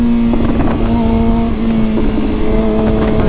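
Motorcycle with a new aftermarket exhaust running loud and close, a steady engine hum with slight throttle changes and faint irregular crackles from the pipe.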